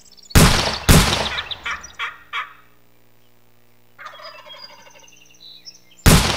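Turkey gobbles ring out during a round of the Remington Great American Bird Hunt video game, two loud bursts opening the clip with quieter calls trailing after, then another sharp burst at the end.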